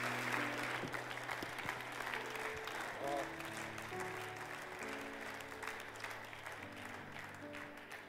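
Applause from an audience fills a church hall, sustained and even throughout, with a voice speaking faintly over it.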